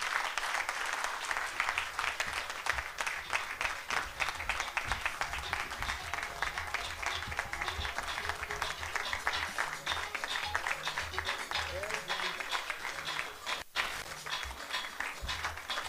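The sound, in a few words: applause after a speech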